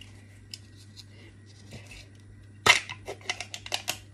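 Cream cheese package torn open in a home kitchen while making mochi filling: a sharp crinkly rip of plastic film, followed by several short rustles and crackles, close and fairly loud against quiet room hum.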